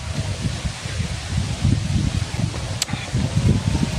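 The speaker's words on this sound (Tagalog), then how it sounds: "Napakahangin guys." Strong wind blows outdoors in a steady, rough roar with low gusty buffeting, likely hitting the microphone. It stays loud and continuous throughout, with one brief faint click.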